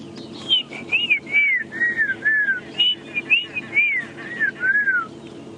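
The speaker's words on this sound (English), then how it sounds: "I can also hear a black-crowned chagrin." Black-crowned tchagra calling at dawn in the African bush on safari, a run of clear descending whistled notes repeated in quick phrases, moderately near, over a steady low hum of other bird calls and background noise.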